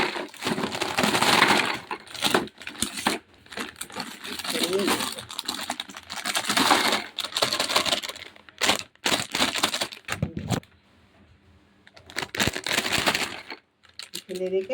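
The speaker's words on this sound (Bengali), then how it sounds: "বিস্কুটটা কৌটোতে ঢেলে রাখি।" Biscuits poured from a packet into a cleaned tin container in a home kitchen, giving close, dry rattling and crunchy clatter in uneven bursts separated by brief pauses.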